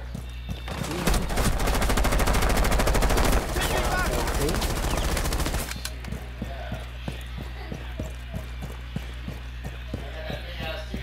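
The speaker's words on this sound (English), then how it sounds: "That shotgun's pretty good." Shotgun gunfire rings out during a tactical shooter match in Rainbow Six Siege, a dense, loud burst of shots lasting several seconds before giving way to quieter scattered clicks and footsteps.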